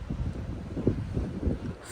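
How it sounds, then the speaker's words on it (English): Wind buffets a microphone in gusty, low rumbling bursts, loud and close, with no other clear sounds. "Oh my God, it's so windy."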